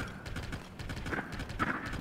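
Horse hooves clip-clop steadily in the video game The Legend of Zelda: Tears of the Kingdom, a regular trotting rhythm of hoof strikes close up, heard alone without talk.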